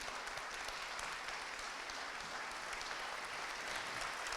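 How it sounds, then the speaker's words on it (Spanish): Applause from an audience at a public event in Mar del Plata, with a dense, steady wash of clapping that holds evenly and fairly softly for the whole stretch, without voices. "Ya le damos la primera energía con este aplauso."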